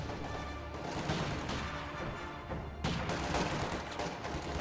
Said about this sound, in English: PTRS blows a big hole in the side of the factory